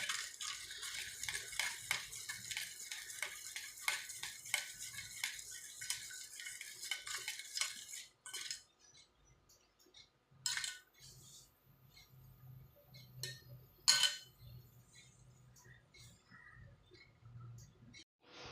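A spoon stirs sugar and cardamom powder into a mixture in a bowl, making quiet, irregular scrapes and clinks, first densely, then sparser with a few sharper taps, and no voices.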